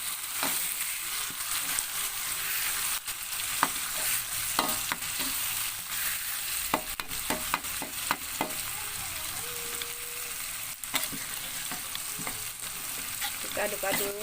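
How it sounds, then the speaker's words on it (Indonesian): Jengkol and blended spice paste fry in oil in a pan while being stirred, giving a steady close sizzle with scraping stir strokes throughout and no talking. "Kita aduk-aduk ya guys."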